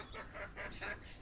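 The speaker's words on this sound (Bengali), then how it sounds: "এই দেখেন মুরগিগুলো কি সুন্দর করে শখ করে ঘাস খায়" Hens peck and eat fresh green grass, giving four or so soft, rhythmic clucks close by against a faint steady background hiss.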